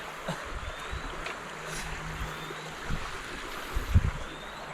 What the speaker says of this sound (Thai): ธรรมชาติเนาะ เสียงน้ำไหลครับ